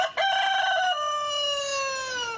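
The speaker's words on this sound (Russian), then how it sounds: "Вместо будильника детей здесь будет петух" A rooster on a rural farm gives a single clear cock-a-doodle-doo, a loud, nearby crow that rises sharply then stretches into a long falling tone before trailing off.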